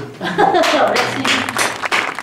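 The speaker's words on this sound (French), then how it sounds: "Et merci à Anne-Marie qu'on applaudit" A burst of audience applause, many hands clapping close by, rising quickly and continuing with a voice speaking over the start.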